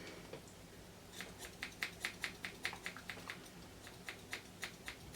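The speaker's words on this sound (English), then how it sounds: "pull it up and then use those thinners to cut the end" Thinning scissors snipping through a Labradoodle's face hair during grooming, a quick run of crisp, light clicks and snips close by, clustered in bursts with short pauses between.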